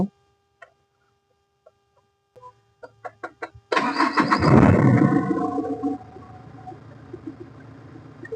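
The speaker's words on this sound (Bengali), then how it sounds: "তো আমি এখন ইঞ্জিন স্টার্ট করব" A car engine cranks briefly and catches, then settles into a steady idle; faint clicks precede the start, and the engine is close and fairly loud with no talk.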